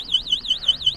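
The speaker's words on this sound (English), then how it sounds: "now since the alarm is engaged and we have moved the scooter, that's why it has started sounding an alarm" A Protos VMX electric kick scooter's anti-theft alarm sounds after the scooter is moved, a loud rapid warbling siren rising and falling about six times per second, alone with no talk.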